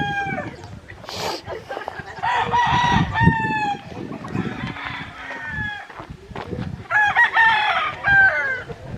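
Chickens cluck and roosters crow repeatedly at a mountain chicken ranch in Bamban, Philippines, several crows rising over a steady bed of clucking, with people talking in the background.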